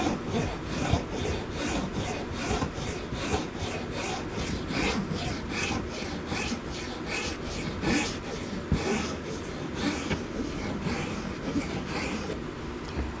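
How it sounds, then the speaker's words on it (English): A file rasps steadily against a wooden wand handle in quick repeated back-and-forth strokes, close and fairly quiet, with no talking. "We're not nearly done with filing this handle yet"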